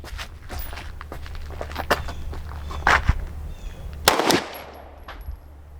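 Pistol gunshots from a Canik Mete MC9 or Springfield Hellcat Pro at a shooting range, a quick run of sharp cracks with two louder reports standing out, followed by a brief quieter tail.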